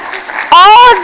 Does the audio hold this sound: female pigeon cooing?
no